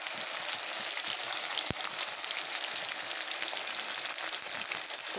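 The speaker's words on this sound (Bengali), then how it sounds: "এখন আমি দিয়ে দেবো আমার আমগুলি" Mango pieces for a sweet and sour pickle dropped into a hot pan, giving a steady, close, hissing sizzle that stays even throughout, with one sharp tap near the start.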